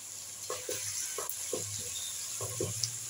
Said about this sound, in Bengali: পেঁয়াজ আর মরিচটাকে একটু ভেজে নেব।